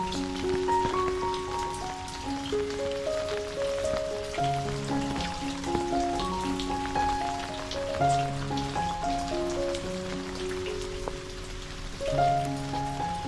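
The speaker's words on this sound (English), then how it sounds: "Under the cool, gentle rain, young fruits on our trees grew swiftly, their delicate forms swelling with each drop." Gentle rain falls steadily on fruit trees in a backyard garden in Sydney, a soft continuous patter running beneath a prominent, slow melodic tune for the whole stretch.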